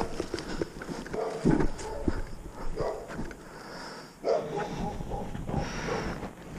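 A dog barks now and then from somewhere just off a trail, a few separate woofs spread across the clip over steady outdoor background noise.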